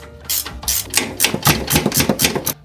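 Rapid ratcheting clicks and metallic ticks come in quick bursts as a wrench loosens the 14mm top nuts on a Lexus GX460 shock mount, close and loud.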